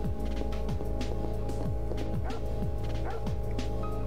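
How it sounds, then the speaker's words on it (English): Dogs bark in the game Parasite Eve, one small dog on a wall giving repeated short yips at a steady rhythm over a constant loud background hum and music. "It's barking at me."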